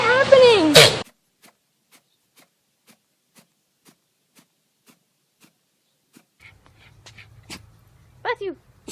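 A dog lets out a sharp, close sneeze at the very start, followed by near silence with faint ticks, then a person's voice briefly speaks near the end.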